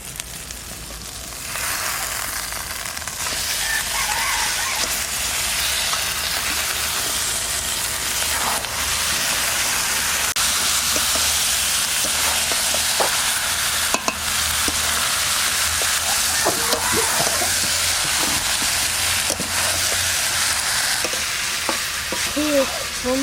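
Mutton hits a pan of cooked-down spice paste for a curry and fries with a loud, sustained sizzle, broken by occasional scraping stirs and sharp crackles, with no one talking.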